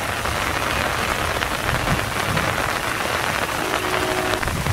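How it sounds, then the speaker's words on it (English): Steady rain during a morning thunderstorm at Iroquois Park pours down close by, a dense, even hiss of drops on surfaces with no break. "Getting rain on my lens."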